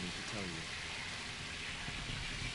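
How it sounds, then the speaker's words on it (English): A steady sizzling hiss runs in the background of the Fallout 4 video game, constant and fairly loud throughout, under a brief voice near the start. "So if you hear sizzling in the background..."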